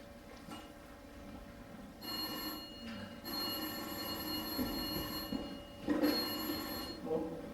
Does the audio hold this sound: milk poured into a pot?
no